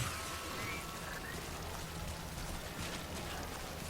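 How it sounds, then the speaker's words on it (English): Steady rainfall in the Death Stranding video game, a dense, even hiss of falling water that holds at constant loudness throughout with no voices. "Oh no, the rain's lightened up."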